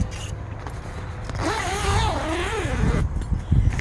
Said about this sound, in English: so to get in this tent, it just zips around